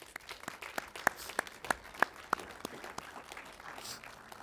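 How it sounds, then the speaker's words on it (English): Scattered audience applause in a theater, a handful of distinct sharp claps with a few louder ones near the middle, fairly quiet and thinning out toward the end. "Give yourselves a round of applause."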